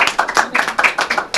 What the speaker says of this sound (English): please give me a round of applause here.